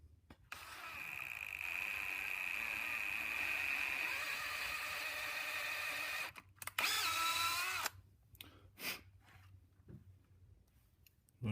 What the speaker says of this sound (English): Drilling this out by hand is not really a big deal